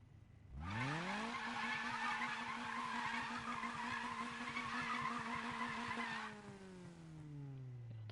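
A car doing a burnout in the Need for Speed video game, with an engine revving up to a sustained roar over loud tire squeal and skidding for about five seconds, then winding down.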